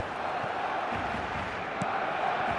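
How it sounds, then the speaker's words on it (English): A stadium crowd in a football video game match, Barcelona against Vasco Gipuzkoa, roars and cheers in a steady, dense wash of noise that swells slightly near the end. "Certainly gave this crowd something to really cheer about."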